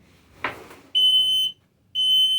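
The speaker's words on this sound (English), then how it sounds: "So that's a carbon monoxide propane gas alert woo! detector." A carbon monoxide and propane gas detector in a camper sounds a test alarm: after a brief thump, two loud, piercing, sustained high beeps come close by, separated by a short pause.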